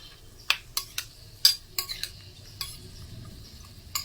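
Seeds frying in a pan while being stirred with a utensil, a soft sizzle under a series of light metallic scrapes and clinks spaced irregularly, close and fairly quiet.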